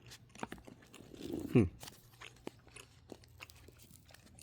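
Someone bites into and chews soft Soley organic mango and pineapple fruit jerky close to the microphone, with one sharper crunchy bite in the middle among quieter, moist chewing sounds.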